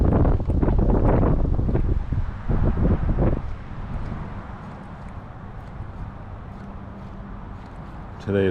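Strong gusty wind buffets an outdoor microphone by the water during topwater frog fishing, loud rumbling bursts at first, then a steadier low roar that persists throughout.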